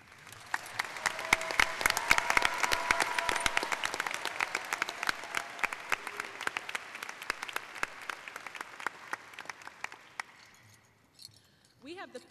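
An audience at a high school graduation applauds, a dense wave of clapping that swells early, then thins to scattered claps before fading out.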